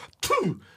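A man fakes a sneeze with one short, close, forced burst that ends in a falling voiced tail, heard on its own and lasting under a second.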